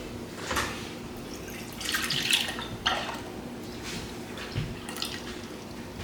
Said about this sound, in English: I'm going to add enough milk till I get to 3 cups